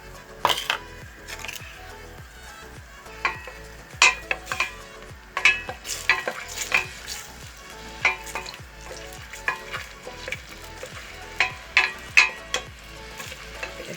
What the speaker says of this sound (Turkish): Şöyle biberlerini şu şekilde soteleyeceğim.